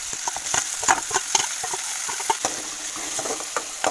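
Cumin, curry leaves, onion and tomato fry in oil in a pan, a close crackling sizzle with rapid popping ticks and spatters over a constant bright hiss, no voices.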